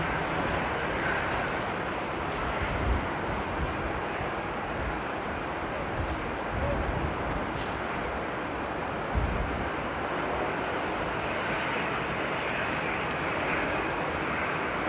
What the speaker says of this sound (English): it's a relatively short flight for an A350, so I don't think we're going to see any thrust reverse